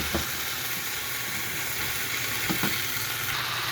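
Spring beans sizzle and fry steadily in a pan after a splash of water is added, a continuous close hiss with a couple of brief stirring clatters and no talking.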